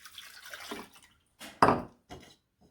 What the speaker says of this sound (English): I'm also going to put in the water,